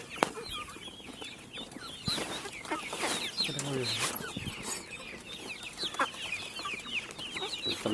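Kadaknath black chickens cluck and squawk in a steady, busy chatter in a home coop, with faint voices mixed in underneath.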